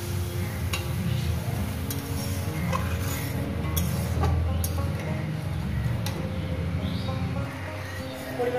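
Water added to fried spice paste in a pan for a fish curry sets off a steady, loud sizzle and bubbling with occasional clinks of a spoon, continuous from start to end.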